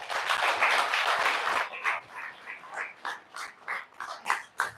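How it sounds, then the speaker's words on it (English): Audience applause at a Rotary district gathering, a dense wash of clapping at first that thins into scattered, separate claps and fades toward the end. "Please let's give him a round of applause once again."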